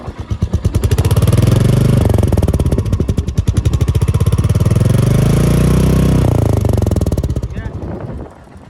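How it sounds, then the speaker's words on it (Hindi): A Royal Enfield Meteor motorcycle with its stock silencer idles with a loud, thumping exhaust beat. The throttle is blipped, so the pulsing note rises and falls twice before the engine cuts out at the end. "मीटियोर का जो स्टॉक साइलेंसर है उसका आवाज़ था"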